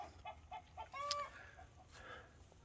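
Quiet, distant chickens clucking at dusk in a short repeated series as they go to roost, with a thin higher call rising over them in a calm, faint setting.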